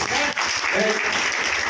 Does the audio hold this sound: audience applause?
yes